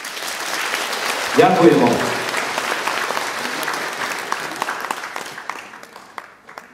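Audience applause fills a crowded hall at an evening media performance, a steady wash of clapping throughout, with a brief spoken thank-you over it.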